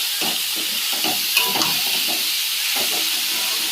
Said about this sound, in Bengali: মোচাটা দিয়ে একটু কষতে থাকবো